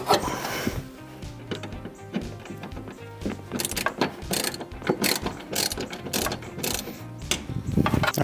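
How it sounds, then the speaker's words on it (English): A short screwdriver backs a fog light screw out of a Toyota Tacoma: close, repeated ratcheting clicks and rattly scraping in an uneven rhythm for several seconds, with no voices. "I'm gonna recommend a shorter screwdriver for this job"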